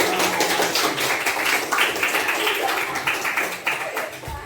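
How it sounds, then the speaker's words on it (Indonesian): A class of teacher trainees in an Indonesian assessment session applauds the top scorer with a burst of brisk, fairly close hand clapping that holds steady and then tapers near the end. "Kita beri tepuk tangan."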